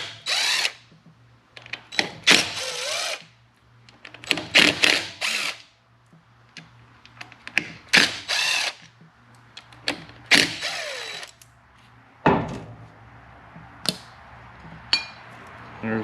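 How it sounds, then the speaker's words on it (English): An impact wrench removes T27 Torx screws from a Harley-Davidson inspection and derby cover, firing in loud, close, rattling bursts of a few seconds each, separated by short quiet gaps and metallic clinks. "I'm going to use my impact."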